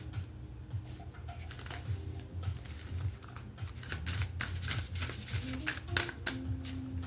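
Large tarot cards shuffle with a continuous soft riffling patter, close and moderately loud, over a low background hum with faint tones.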